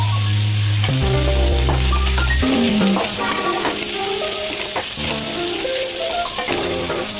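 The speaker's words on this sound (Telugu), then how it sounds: "ఇది కొబ్బరి కాదు కదా, పచ్చి కొబ్బరి కదా, అందుకని నేను కొంచెంసేపు ఫ్రై చేశాను." Freshly grated raw coconut fries in a pan, a loud steady sizzle with clinking, scraping stirs from a spoon against the metal.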